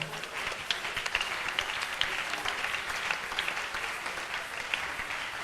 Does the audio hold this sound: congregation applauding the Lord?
yes